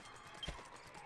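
Horse hooves clip-clopping in the video game Dragon Quest 8, a short, quiet burst of a few hoofbeats at a moderate distance over soft background sound.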